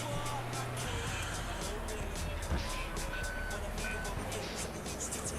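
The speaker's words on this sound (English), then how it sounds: "We've got the trash wagon here, so we'll take that." A garbage truck in Grand Theft Auto 3 on PS2 sounds a steady run of repeated reversing beeps over a constant engine drone and game ambience, moderately loud throughout.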